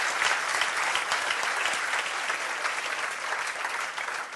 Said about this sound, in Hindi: जोरदार ताली बजाओ।